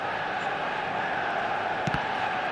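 A stadium crowd in the eFootball video game makes a steady, dense roar of many voices throughout, with a short burst of shouting near the end.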